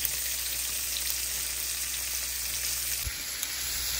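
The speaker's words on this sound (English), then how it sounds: "We're gonna saute these down and get them to release some of their juices and sweeten those onions up" Onions and peppers sauté in bacon grease on a farm cook's stove with a steady, moderate sizzle. The sizzle runs throughout with a faint high whine above it and a soft bump near the end, and no one speaks.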